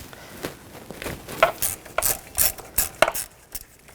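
Ratchet with a 10mm socket loosening bracket bolts beside the air box of a 2014-2020 Nissan Rogue 2.5L four-cylinder during alternator replacement; several short bursts of crisp, close pawl clicking, separated by brief pauses.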